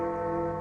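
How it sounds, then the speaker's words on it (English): A church steeple bell rings in a radio drama of Dickens' A Christmas Carol set on a snowy early Christmas morning in London, one sustained, rich, resonant tone holding steady and loud throughout. "There's a steeple bell."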